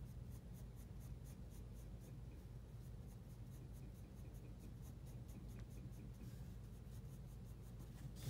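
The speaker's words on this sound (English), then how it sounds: "So the best way to shade this is using something like the 7B." A soft 7B graphite pencil shades a drawing on paper with a steady, continuous scratchy scrape. The strokes are quiet and close, with no talking.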